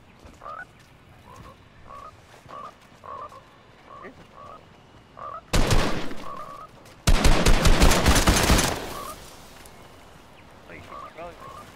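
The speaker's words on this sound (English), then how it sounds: "Sounds like a frog." A frog croaks in the Fortnite video game, with short croaks repeating at a steady pace. Two loud bursts of rapid gunfire cut in midway, then the croaking returns.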